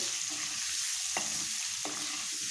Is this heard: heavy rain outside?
no